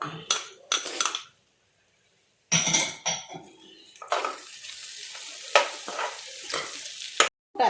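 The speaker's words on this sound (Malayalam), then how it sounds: "നമ്മൾ ആദ്യം വറുത്ത് വെച്ച മുളകും വേപ്പിലും ഇട്ട് കൊടുക്കുക" Fried chillies and curry leaves are stirred into chicken frying in a pan: bursts of loud sizzling and spoon-against-pan clatter, with a brief silent gap before a longer stretch of steady frying and stirring.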